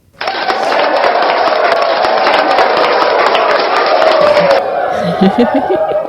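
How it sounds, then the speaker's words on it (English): A sound effect of dense applause from a crowd, sustained for about four seconds before cutting off, followed by a few scattered sounds and chuckles. "They all had clapping in them."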